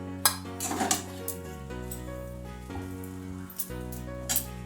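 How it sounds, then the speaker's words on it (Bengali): Chow mein with scrambled egg stirred in a pan over a low-to-medium gas flame: metal utensil clinks and scrapes against the pan repeat irregularly over a steady background hum, close and fairly clear, with no talking. "পুরো চাউমিনটা ভালো করে একটু নেড়ে নেওয়া হচ্ছে"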